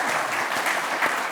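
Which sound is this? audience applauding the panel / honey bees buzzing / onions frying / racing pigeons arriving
audience applauding the panel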